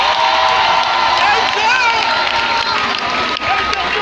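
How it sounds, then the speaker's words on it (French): An audience at an official launch event in Côte d'Ivoire applauds a youth protection director with loud, continuous clapping and cheering, a dense crowd roar with scattered shouts and whoops throughout. "Il faut l'applaudir,"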